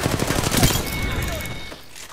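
Gunfire during an Apex Legends Season 9 match, a dense burst of rapid shots in the first second that thins into scattered weapon noise, with a voice talking over it.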